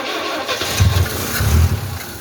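A 1974 Citroën DS21 with a double-barrel carburetor, unused for over six years, cranks on a cold start with the choke pulled, giving two rough, low surging bursts of engine noise close by with no talk.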